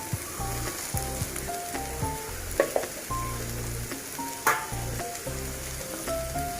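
Spices roast with onions in a hot pan, hissing and sizzling steadily, with occasional stirring scrapes and clinks. There is no talking.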